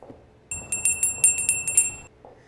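A Salvation Army hand bell rings out for the holiday shopping season, a bright metallic clang repeated about eight times in a steady rhythm, loud and close, then stopping abruptly.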